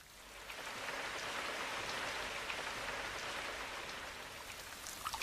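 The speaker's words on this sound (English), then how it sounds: "I shouldn't grumble about the rain." Steady rain falls on a garden, a dense even patter of drops on surfaces that holds at a constant level throughout, with no voices.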